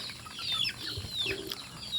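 Breeding chickens on a small farm, a few soft clucks and chirps close by with light rustling, fairly quiet over a faint background.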